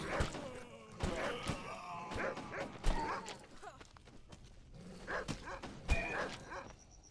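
In the zombie video game Decision Red Daze, a dog barks in sharp repeated bursts and whimpers between them, mixed with thuds and other game effects at moderate level.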